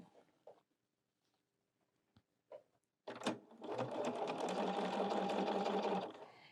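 A sewing machine with an edge stitch foot stitches along the edge of vinyl, starting after a few quiet handling taps and then running in a fast, steady, close mechanical whir for about three seconds.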